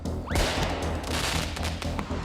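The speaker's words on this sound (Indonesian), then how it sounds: "Kalau gitu segera nyalakan merconnya" Firecrackers set off outdoors near a village to scare away wild elephants, a sharp loud bang followed by a rapid crackling string of pops.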